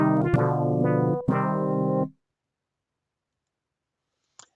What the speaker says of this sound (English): That sound was basically saying that someone that was working buildings died